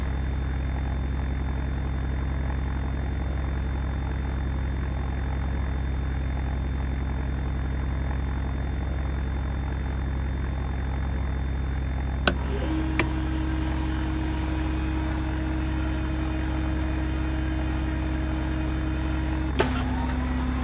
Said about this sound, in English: Okay, let's start engine 2.